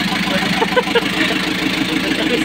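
Overhauled Kia KC2700 engine running steadily at idle, a continuous mid-low drone with faint knocking texture throughout, close and fairly loud.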